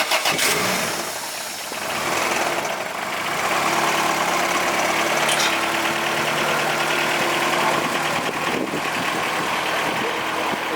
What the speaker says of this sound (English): This thing is super quiet for a CSS motor and everything.